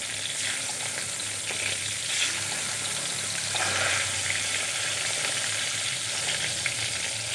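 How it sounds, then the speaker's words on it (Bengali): Hilsa fish pieces frying in oil in a pan, a dense continuous sizzle that stays loud and even throughout, heard close up with no voices over it. "উল্টিয়ে এই সাইডটাও আমি ভেজে নেব। উল্টিয়ে পাল্টিয়ে মাছগুলো ভেজে নিতে হবে।"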